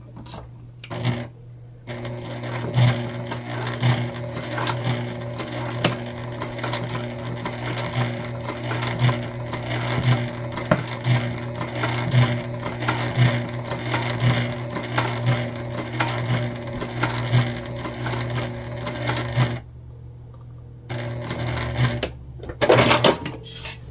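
A sewing machine stitches down the center of a thick Olivia Bag, its motor humming steadily with a rapid needle clatter for about twenty seconds before stopping, then a short burst of mechanical clicks near the end.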